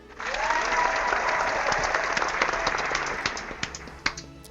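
Sustained applause from an audience, a dense wash of clapping that holds steady and then thins into scattered individual claps toward the end.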